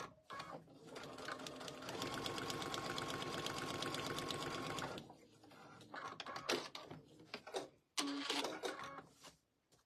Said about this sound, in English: now just going to sew that down